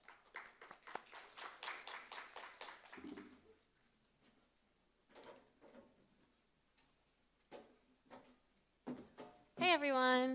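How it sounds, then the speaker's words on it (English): An audience at a tech conference session in Toronto gives a short, light round of applause, followed by sparse claps, a few scattered sounds and a burst of noise at the end. "let's give them a round of applause"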